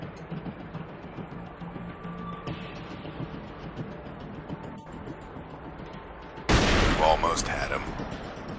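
In a sniper video game, a low rumbling backdrop gives way to one sudden loud sniper rifle gunshot near the end, its blast tailing off over the final seconds.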